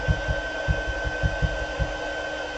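Embossing heat tool blowing hot air onto enamel elements and embossing skins, a steady close whirring rush with a faint high whine and soft rhythmic thumps beneath, no talking.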